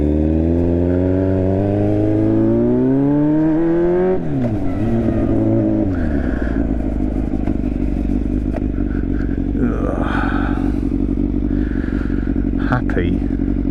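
Yamaha Fazer 600 motorcycle engine revving up and down loudly up close, rising and falling pitch sweeps that settle into a rough, heavy idle with throttle blips.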